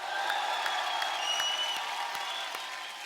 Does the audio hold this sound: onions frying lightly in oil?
no